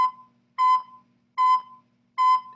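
Three separate tongued notes on a wind instrument, each with a crisp T attack, sounding clear and moderately loud at an even pace with short silences between, played alone.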